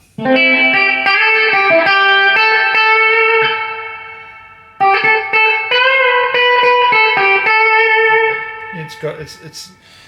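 Loud, heavily distorted Telecaster electric guitar chords ring out through an amp with the master volume cranked to 10, sustaining, pausing briefly, then strumming again before fading into scratchy noise.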